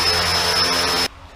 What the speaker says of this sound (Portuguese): Eu tô sentindo nos comandos, mas eu ainda tenho o controle do helicóptero.